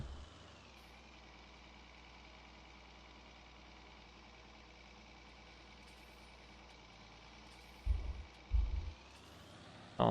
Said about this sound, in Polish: Przy orce to wiecie, ciągnik sobie jedzie i...